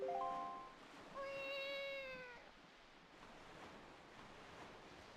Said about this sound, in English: Do you guys want to hear Link meow like a cat?